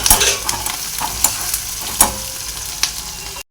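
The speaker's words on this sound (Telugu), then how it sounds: "2 నిమిషాలు ఇలా తిప్పుకుందాము." Onions, coriander and curry leaves sizzle steadily in a frying pan, with a spoon scraping through them in several separate stirring strokes.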